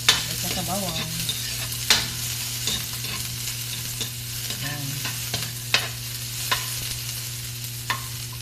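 Chopped onion and garlic sauté in a pan for chicken feet soup with vegetables, a steady loud sizzle broken by periodic sharp spatula scrapes and knocks, close up with no talking.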